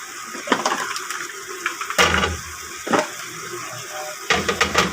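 Water poured into a pan of simmering chicken adobo, a few splashy bursts and hissing pours over a steady cooking background.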